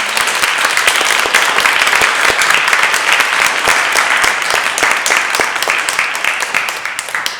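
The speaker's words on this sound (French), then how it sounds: "J'aimerais une bonne main d'applaudissements pour nos panélistes aujourd'hui." A crowd at a biodiversity conference on local communities applauds its panelists with loud, dense clapping that holds steady for several seconds before tapering slightly at the end.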